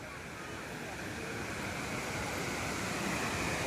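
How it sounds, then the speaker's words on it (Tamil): Water gushing and roaring over the Vaigai Dam spillway in Tamil Nadu, a dense, steady rushing wash at constant loud level throughout, with wind buffeting the microphone. "வைகை டேம் பாருங்க சூப்பராக இருக்குது தண்ணி அப்படியே ஆர்ப்பரித்து கொட்டிக்கிறது"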